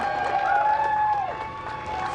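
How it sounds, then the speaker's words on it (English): A small crowd cheering and clapping as NASA astronauts walk out before the SpaceX DM-2 launch, brief bursts of applause and whoops under a steady tone, with a voice speaking briefly. "Small crowd, but big cheers."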